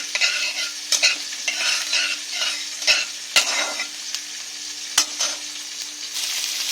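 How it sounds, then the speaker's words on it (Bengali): Panch phoron spices frying in hot oil in a wok (kadai), a steady close sizzle with crackling pops and several sharper clicks of a utensil stirring. "5 ফোড়নটা একটু ভাজবো।"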